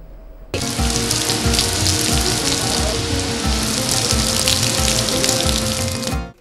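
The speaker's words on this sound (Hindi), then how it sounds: "मुल्तान में मूसलाधार बारिश, गर्मी का जोर टूट गया" Heavy downpour in Multan, Pakistan, breaking a spell of summer heat: a dense, steady roar of rain hammering surfaces, loud and continuous for several seconds with no voices.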